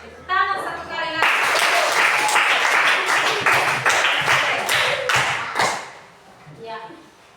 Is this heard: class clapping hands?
yes